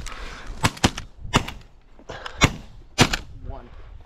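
Shotgun blasts while hunting pigeons outdoors; four or five sharp, loud shots spaced irregularly over a few seconds, with quiet voices in between.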